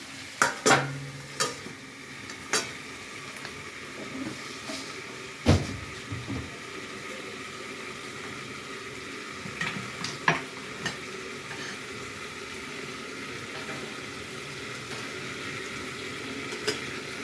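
Potato and poppy-seed posto cooking in a covered pan, a low steady sizzle under the lid punctuated by occasional clinks and knocks, with quieter stretches of gentle bubbling.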